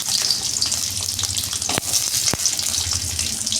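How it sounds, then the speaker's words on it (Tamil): Garlic sizzles in hot oil in a pan for a fish curry. The frying is loud and steady, with a couple of sharp clinks partway through and no voices. "இப்போ பார்த்திங்கன்னா பூண்டு போட்டுக்கலாம்."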